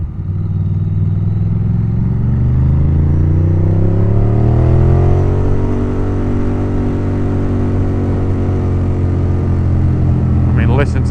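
A Ducati Monster S4 motorcycle engine runs loud and close, its pitch climbing as the revs rise and then settling into a steady, throaty drone, with a brief click right at the end.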